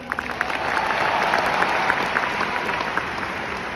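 An audience at a Delhi business event breaks into loud, sustained clapping, a dense steady round of many hands lasting throughout.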